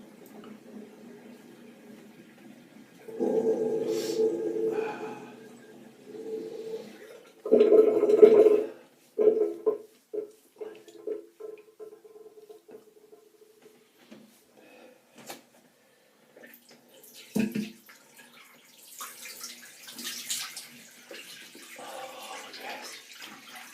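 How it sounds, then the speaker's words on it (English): Water drains from a bathroom sink after a shave, giving a few short gurgling and rushing bursts with quiet gaps between them, then fainter trickles and clatter near the end. "Just going to drain some water, excuse the noise"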